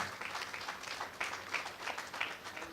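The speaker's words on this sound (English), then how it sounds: "give a round of applause to the work and the contribution of the Jamaican farmers" Applause from an audience at the Denbigh 65 agricultural show launch in Jamaica, honouring Jamaican farmers; a steady, moderately distant clapping with a few sharper individual claps standing out.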